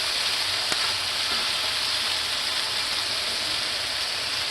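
Onions sizzling and caramelizing on a griddle beside smash burgers, a steady, loud, dense hiss of frying fat that runs unbroken throughout with a single brief tick near the start.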